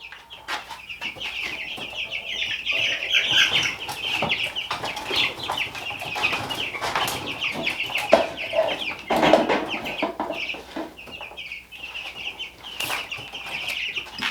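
Farm chickens clucking steadily and close, with bursts of wing flapping as they stir up dust, a continuous chorus of fowl with no voices over it.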